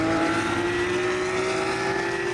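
Race cars at a racetrack produce a steady, loud engine whine that holds nearly one pitch, as if a car is tracked at speed, with no voices.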